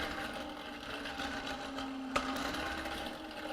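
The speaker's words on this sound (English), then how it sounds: "Very unique vacuum, pre-electric vacuum." A hand-powered pre-electric vacuum cleaner with a friction wheel runs with a steady mechanical whir and hum, a single sharp click or knock cutting through midway.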